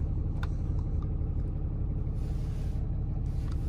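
A 2015 Ram Laramie Mega Cab pickup with its 6.7 Cummins diesel idles close by, a steady loud low rumble with a faint higher hiss drifting in and out and no talk.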